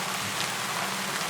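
Rain falls through a forest canopy in a steady, dense patter of drops, close and even throughout, with no voices.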